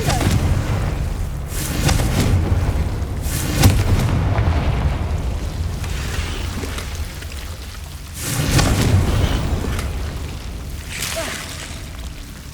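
Repeated Confringo spell explosions in the video game Hogwarts Legacy, heavy booming bursts that swell and fade at irregular intervals over a loud, rumbling background.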